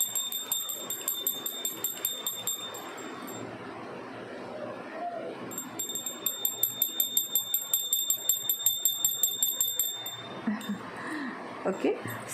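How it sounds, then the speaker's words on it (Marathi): A small hand bell rung to cleanse energy gives bright, sustained metallic tones in repeated bursts, with soft rhythmic shaking in the middle section and faint background sounds. "ज्यांनी पण ही बेल चूज केली आहे. ओके, मला याचा आवाज खूप आवडतो"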